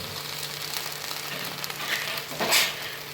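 Food sautéing in a pan for a Tamil-style chicken gravy, before ginger garlic paste goes in: a steady, moderately close sizzle with soft crackles and a brief louder burst of frying near the end.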